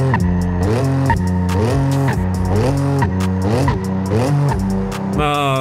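Race car engine in a racing video game (Gran Turismo 7 or Forza Horizon 5) revving hard, pitch climbing and dropping with repeated rapid gear changes, loud and continuous, ending in a high whine.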